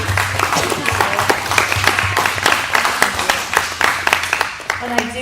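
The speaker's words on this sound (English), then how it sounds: "Let's give her a huge round of applause." An audience applauds after a speaker at a public talk featuring a whistle-blowing nurse. The clapping is dense and steady throughout, fairly loud and close, with a voice speaking over it.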